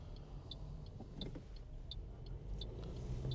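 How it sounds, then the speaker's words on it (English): Car passing from the front during a suburban driving lesson in Bundoora, Victoria, a steady road rumble with faint rhythmic ticking, heard from inside the moving car with no talk. "The car is coming from the front."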